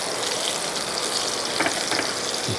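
Small onions and chillies frying in hot oil, a steady dense sizzle with brief stirring bursts, close and without talk.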